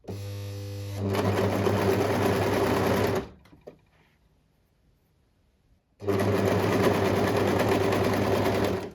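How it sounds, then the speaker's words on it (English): An overlocker runs loud and steady while sewing the side seams of a newborn baby onesie, in two long bursts separated by about three seconds of near silence with a faint clunk. "Overlocked the side seams, you would have seen that just now."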